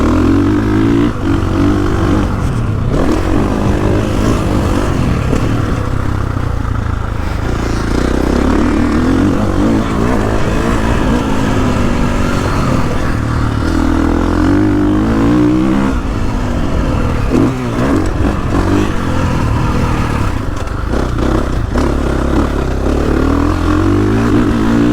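A 2021.5 KTM 450SXF Factory Edition motocross bike rides a track, its engine roaring loud and close without a break, rising and falling as it revs through the corners.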